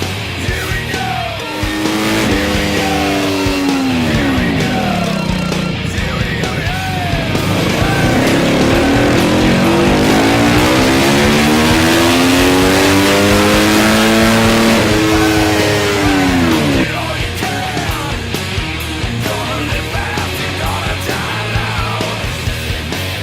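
A motorcycle with an FMF exhaust runs on a dyno in a factory dyno room, the engine revving repeatedly with rising and falling pitch sweeps, loud and close, climbing to a long sustained high-rev pull before dropping back.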